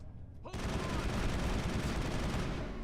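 Rapid sustained gunfire from Mass Effect combat as turrets are shot, a dense continuous burst of automatic fire that kicks in suddenly after a brief quieter moment and stays loud, with faint voices mixed beneath.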